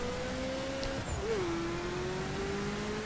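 Ferrari F40 in The Crew accelerating in light rain, with a steady engine drone rising slowly in pitch as the rear wheels spin; a brief tire chirp cuts in early, all fairly quiet and even.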